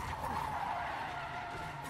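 Car tires skid and squeal in the Resident Evil 7 video game, a brief, fairly faint screech heard alone.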